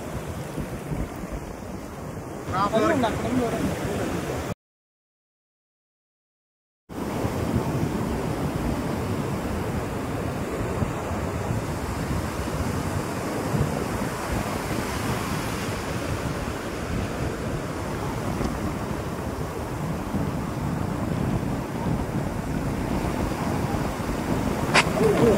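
Sea waves washing onto Akkayapalem beach, a steady broad roar of surf mixed with wind buffeting the microphone, continuous apart from one brief silent gap.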